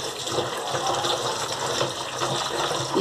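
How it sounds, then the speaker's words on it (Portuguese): Sururu mussels are rinsed under a running kitchen tap, producing a steady close gush and splash of water with no other sounds. "eu começo primeiro sempre lavando em água corrente."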